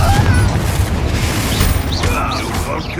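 Bombarda, the blasting spell from Hogwarts Legacy, goes off as a loud, dense boom that rolls on for a few seconds, with crackling debris and swooshing effects layered over the low rumble.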